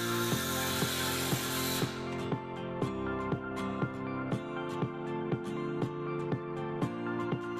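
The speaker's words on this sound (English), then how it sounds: "Cut a 5 centimetre slot along the ridge." Cutting a 5 cm slot along the ridge of a bituminous-shingle roof, heard as a steady power-tool whine with a regular series of sharp clicks or taps, close and fairly loud, alone without talk.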